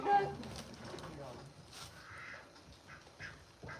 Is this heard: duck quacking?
yes